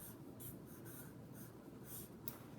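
Chalk or marker strokes on a classroom board during a literacy lesson, a run of short scratchy scrapes and taps in quick bursts over a steady room hum, close and moderately loud.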